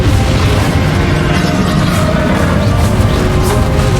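A continuous loud roaring, booming barrage from Confringo explosive spell blasts in the Hogwarts Legacy video game during a fight against a dragon, dense and unbroken throughout.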